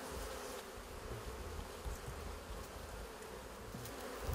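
Dense, steady buzzing of many honeybees close by at an open hive in a montane cloud forest in Mexico, a continuous droning hum with no voices.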